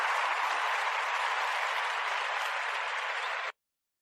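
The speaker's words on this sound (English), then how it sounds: "A round of applause, okay" Steady audience applause fills a DJ interview setting, an even wash of many hands clapping for several seconds before stopping abruptly.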